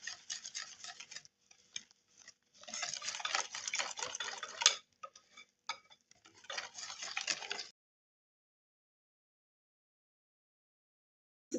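Basbousa batter with yeast added is stirred in a bowl, making close scraping and clinking in two or three bursts, then silence.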